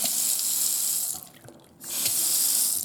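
A Delta faucet's stiff handle is opened and water runs steadily from the tap into the sink, loud and close. The flow cuts off briefly, then gushes again, with no talking.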